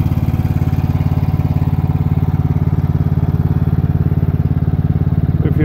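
A Cub Cadet XT1 lawn tractor engine runs steadily at close range, a loud, even mechanical drone with a rapid regular pulse and no pauses, heard alone.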